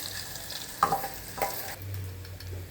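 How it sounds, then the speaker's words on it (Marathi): Washed basmati broken rice tipped into a pan and stirred, with two quick scraping bursts over a quiet sizzle and a low steady hum afterward. "आता हे तांदूळ धुतलेला आहे, साधा बासमती तुकडा तांदूळ आहे, त्यामुळे त्याच्यामध्ये मी घालून घेते"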